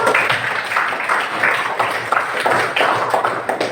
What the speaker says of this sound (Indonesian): Tepuk tangan untuk Bayu.